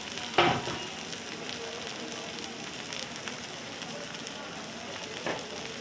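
Okra hitting hot oil with softened onions in a generously oiled pan, a continuous soft sizzle with a couple of sharper clatters near the start and end, close by and moderate in level, no voices.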